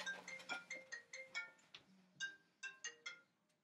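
A phone ringtone plays for an incoming call, a quick run of bright electronic melodic beeps in repeated bursts with short pauses between, fairly faint and heard alone without talk.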